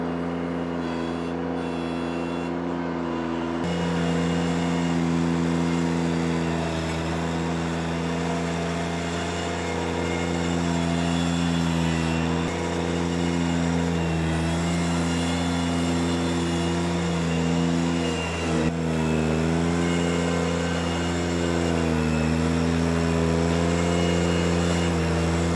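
A John Deere 2038R compact tractor with a 270B backhoe attached driving in a backyard, its engine droning steadily and fairly loud throughout with little variation.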